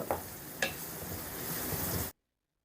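Sliced onions sizzle in hot oil in a pan with a steady, soft frying hiss, a couple of light clinks or stirs near the start, then cutting off abruptly.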